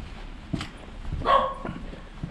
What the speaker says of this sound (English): Friendly dogs. Hopefully.